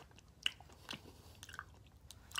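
Boiled peanuts being chewed up close during a mukbang, with faint soft bites and wet crunches spaced irregularly over a quiet background.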